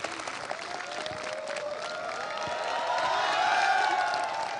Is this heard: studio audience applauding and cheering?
yes